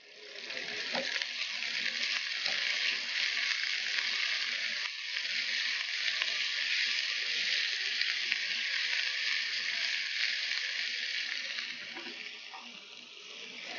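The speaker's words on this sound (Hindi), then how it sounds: "तेल गरम हो जाए तो आप इसमें प्याज शामिल कर दीजिए।" Onions hit hot oil and fry with a steady, loud, close sizzle that holds without pause, faint stirring scrapes now and then beneath the crackle.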